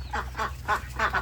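A female duck quacks four or five times in a quick, even series, loud and nasal, over a low steady hum.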